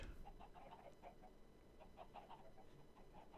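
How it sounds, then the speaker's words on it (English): Minecraft chickens cluck faintly somewhere nearby in a blocky game world, a scatter of short repeated clucks over a low, steady background hum. "There's chickens somewhere."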